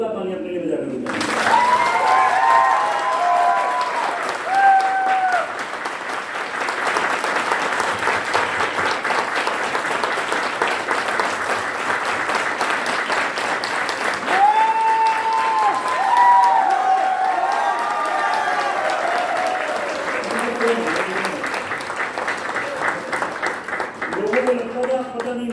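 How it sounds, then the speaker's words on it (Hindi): An audience at a Hindi-language motivational training seminar breaks into loud, sustained applause, clapping steadily for over twenty seconds with bursts of cheering and brief voices over it. "एक बार जोरदार ताली अपने लिए बजा कर"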